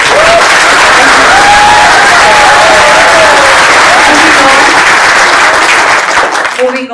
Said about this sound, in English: Please do give a big round of applause.